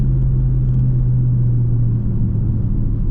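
A loud, deep engine rumble from a drag racing car at bracket racing finals holds steady and heavy throughout, close by.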